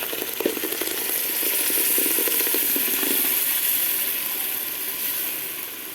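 Tomatoes tipped into a hot pan of fat for Egyptian mahshi sauce hiss in a loud, steady sizzle close by, with faint stirring clicks, no talking.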